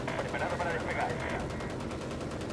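Machine gun fire in the World War II shooter Battlefield 1943, a steady, rapid, continuous rattle of automatic shots lasting the whole moment, fairly distant and muffled, with a voice faintly under it.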